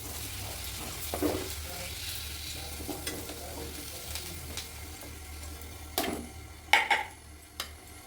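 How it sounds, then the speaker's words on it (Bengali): Potatoes frying in oil in a kadai on the stove, browning for a rohu fish curry with papaya: a low, continuous sizzle with intermittent stirring scrapes and a few sharp metal clinks, close and without talk. "আলুটাও বেশ সুন্দর লাল লাল করে ভেজে নিলাম"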